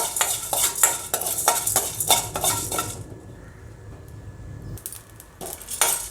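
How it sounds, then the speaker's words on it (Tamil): Urad dal, chana dal, black pepper and cumin dry roasting in a kadai, stirred with a metal spoon in rapid rhythmic scrapes and rattles, a brief quieter pause, then more scraping near the end. "உளுத்தம்பருப்பு, கடலைப்பருப்பு, மிளகு, சீரகம் இது எல்லாத்தையும் நம்ம லைட்டாக செவக்கிற அளவுக்கு வறுத்து எடுத்துக்கலாம்"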